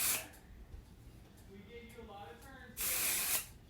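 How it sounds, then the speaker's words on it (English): Hair spray bursts from a can onto sectioned hair from underneath, two short hissing sprays at the start and end, with a soft voice speaking quietly between them. "spray it from underneath"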